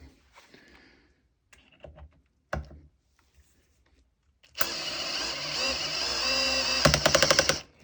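A Makita 12V drill driver set to clutch position 16 runs in a loud, steady whir for about three seconds, ending in a rapid ratcheting clutch slip, after scattered quiet knocks and handling noises.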